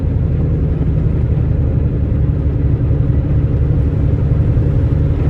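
A 1989 Toyota MR2 with a 1.6-liter four-cylinder engine and about 140K miles under hard acceleration, heard as a steady, loud, low engine drone and rumble from inside the car for the whole stretch, with no talk.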